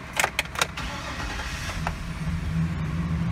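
A Chevy truck engine cranks and catches, a few quick starter bursts up front followed by the low idle settling in, heard from close by with no talk.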